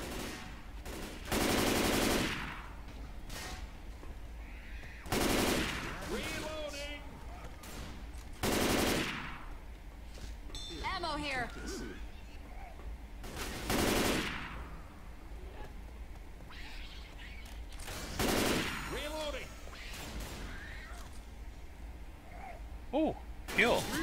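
Gunfire in the video game Left 4 Dead 2 at a port level, heard as several short bursts spaced several seconds apart over steady game ambience, with someone talking in between.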